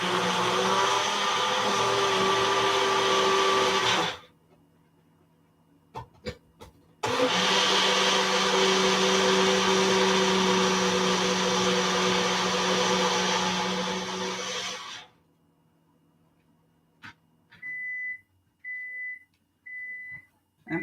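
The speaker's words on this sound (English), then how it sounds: "I'm going to just put that in the blender." Blender whirring at a steady high speed while blending for mac and cheese, two long bursts of roughly four and eight seconds separated by silence, followed by short electronic beeps.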